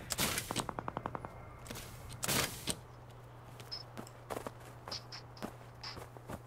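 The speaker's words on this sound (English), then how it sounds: "Well, I just did shooting" Gunfire in the shooter game Cuisine Royale: a rapid automatic burst of close shots at the start, a heavy blast, then scattered single shots and faint clicks over a steady low hum.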